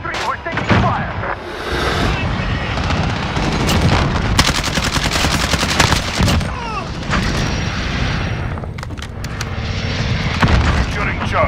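Heavy gunfire in Call of Duty Modern Warfare: dense automatic bursts and booming blasts over a constant roar of aircraft, with urgent radio chatter running underneath.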